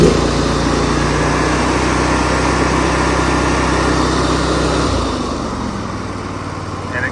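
A small engine runs steadily at raised throttle on its static governor, a loud, even buzzing roar that holds, then drops back toward a lower idle near the end. No one speaks.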